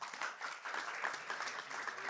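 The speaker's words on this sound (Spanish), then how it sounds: "recibamos con un aplauso a Silvina Seger" Audience applauding at a corporate reputation talk as a McDonald's Arcos Dorados executive is welcomed, a steady, fairly faint patter of many hands clapping throughout.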